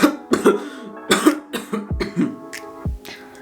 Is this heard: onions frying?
no